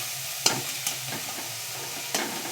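Coriander and cumin powder spice masala sautéing in mustard oil, with a steady low sizzle and a few sharp spatula scrapes against the pan.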